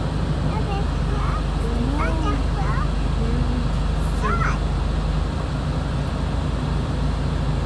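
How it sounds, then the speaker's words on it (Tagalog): A big truck rumbles past on the road, a steady low-pitched engine drone with traffic noise that swells slightly midway, heard close under intermittent voices talking nearby. "Oh, big truck."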